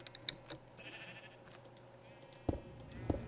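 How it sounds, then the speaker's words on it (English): Minecraft sheep let out two short bleats near the end over faint keyboard clicking, with light game sounds earlier. "We need a way to silence these sheep."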